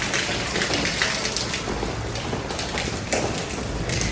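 Steady rain pours down outdoors, a dense, continuous patter of drops on surfaces, loud and close throughout.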